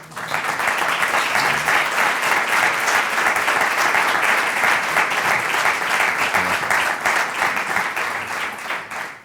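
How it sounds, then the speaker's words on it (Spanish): Audience applause at a book presentation and dialogue, a dense, steady clapping that fills the room for the whole stretch and eases slightly near the end, with no talk over it. "para arrancar les pido les den un fuerte aplauso"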